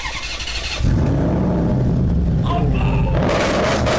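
A Maserati pulls away fast, its engine roaring loudly and continuously with tire noise, close and dominant throughout.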